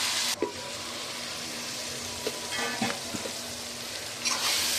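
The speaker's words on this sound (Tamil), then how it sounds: "நல்லா வதங்கட்டும்." Onions and tomatoes sauté and sizzle in hot oil for a beachside fish curry, a steady frying hiss with a few soft stirring scrapes and clinks, close and continuous with no talk.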